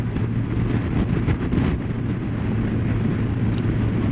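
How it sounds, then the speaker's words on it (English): Strong wind blows outdoors, a steady, loud rumbling roar buffeting the microphone with gusty swells throughout, no voices present. "And it is so windy out here today."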